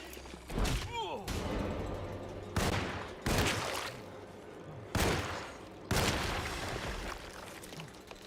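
Several loud, separate gunshots from the game Alone in the Dark, spaced about a second or two apart, each with a booming echo, while a voice talks between them.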